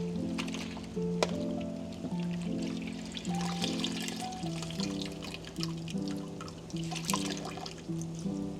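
Water draining from defrosted, soaked kale as it is strained, a continuous close trickle and splash of pouring liquid with small uneven surges.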